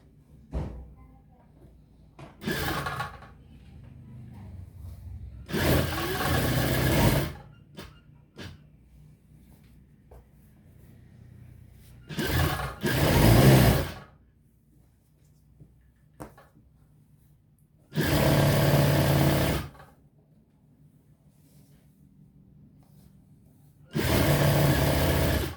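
A sewing machine sews the shoulder of an Arabian-style burqa in a few short, loud bursts of rapid stitching spread across long quiet stretches, close by and alone.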